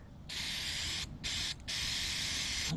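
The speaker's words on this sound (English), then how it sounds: "Let's do some more spraying." Aerosol cleaner hisses onto the throttle plate of a 2007 Pontiac G6 2.4L Ecotec in three close, loud spray bursts separated by short pauses.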